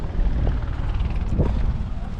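Helicopters taking off somewhere nearby during an Australian roadtrip stop give a low, continuous rotor rumble with wind buffeting, steady and fairly loud throughout.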